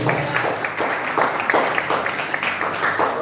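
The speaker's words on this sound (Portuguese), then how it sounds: "Aplauda ao Senhor." A church congregation applauds in praise during a worship service, producing a steady wash of moderate clapping that pulses slightly without a break.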